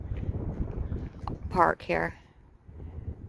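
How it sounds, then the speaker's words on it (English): Steady gusting wind rumbles against the microphone throughout, with a short spoken phrase in the middle. "It's a little chilly and windy today."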